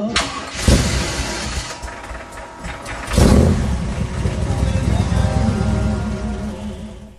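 A GM 502 crate engine fed by a Holley 850 vacuum-secondary carburetor in a street rod revs loudly and close, with two sharp throttle blips swelling into a sustained, roaring run.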